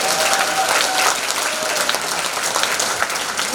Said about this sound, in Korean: 이분들을 위해서 다시 한번 박수 부탁합니다